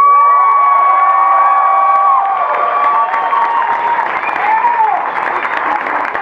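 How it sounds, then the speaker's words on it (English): A convention crowd at opening ceremonies applauds and cheers for the guests, with bright whoops and shouts over steady clapping, loud and close. Musical tones ring through it as well. "You got bigger applause than I did."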